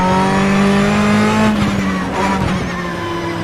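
A race car engine in an Indy Car Brasil championship race at Sebring, droning loud and close with a steady harmonic whine that dips and surges as the driver feathers the throttle through a turn, with a brief rasp of tire scrub.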